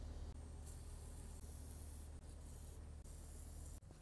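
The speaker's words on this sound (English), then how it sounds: "I'm gonna spray some WD-40." A steady, faint aerosol hiss of WD-40 sprays continuously onto nuts in a 2013 Subaru Outback engine bay, broken by a few brief pauses, with no voices.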